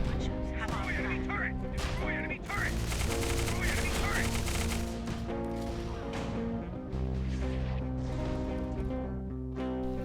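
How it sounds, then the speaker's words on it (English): The Falcon automatic gun of the Sentinel class in Tribes: Ascend fires in quick bursts of sharp rapid shots, partly masked by a steady bed of game music. "As a Sentinel you have arguably the best automatic gun in the game, the Falcon."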